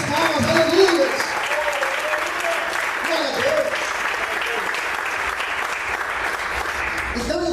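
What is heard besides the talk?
congregation clapping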